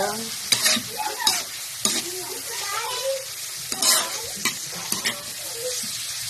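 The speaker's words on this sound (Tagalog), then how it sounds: "haluin lang natin to" Food is stirred in a sizzling frying pan with onion and garlic, steady frying hiss broken by repeated scraping strokes of a utensil, close and fairly loud.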